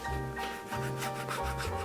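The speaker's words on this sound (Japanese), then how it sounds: "今回磨いているのはカーフです。" Brush buffing a calf leather shoe after emulsified cream is applied. Close, continuous back-and-forth rubbing strokes come in a quick, steady rhythm, with a low hum underneath.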